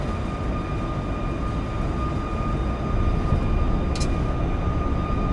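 A Boeing 737 MAX jet on its takeoff roll in the X-Plane 12 flight simulator, departing Delhi, with a loud, constant engine roar and rumble that swells slightly partway through, heard alone without voices.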